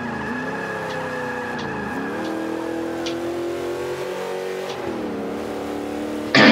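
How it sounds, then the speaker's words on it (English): Muscle car drifting in Forza Motorsport 5, a vintage American street muscle car, with a steady loud engine drone that bends in pitch through the curves, a faint tire squeal, and a louder burst at the very end. "that's a good drift"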